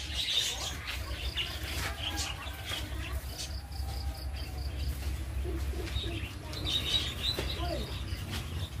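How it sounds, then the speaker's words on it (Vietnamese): Many budgerigars chirp and twitter in an aviary, a dense continuous chatter of high calls over a low background hum. "Đây là một cái hàng rào chim. Rất là nhiều chim."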